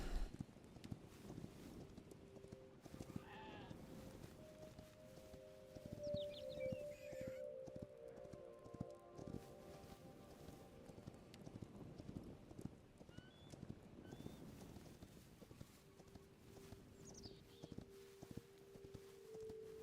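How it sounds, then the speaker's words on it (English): Horse hooves clip-clopping steadily in the video game Hytale, a rhythmic run of clear hoof clops under a soft wind bed, with a faint whinny and scattered tonal game sounds mixed in. "it's going to be way easier to go long distances with the horse on us."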